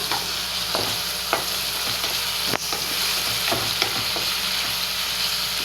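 Paneer frying in a pan with sauce, a steady close sizzle running throughout with scattered stirring clinks and scrapes, one sharper knock near the middle.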